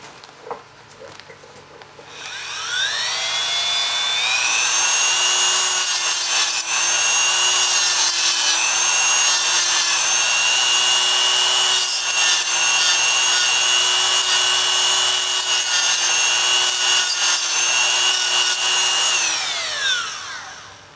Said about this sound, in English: let me grind that and clean that up and get that ready to go